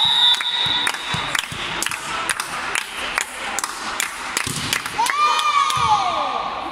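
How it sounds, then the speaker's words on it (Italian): Spectators at a women's volleyball match cheer and clap for a server, a lively mix of clapping, shouts and bangs in a gym, with a rising whistle-like tone near the end and voices throughout. "applausi per lei!"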